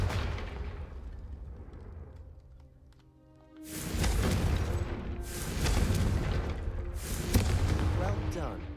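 Spell blasts going off in Hogwarts Legacy, a burst of booming, crackling explosions, three loud surges in a row that follow a quieter hum of game music, with a voice briefly heard.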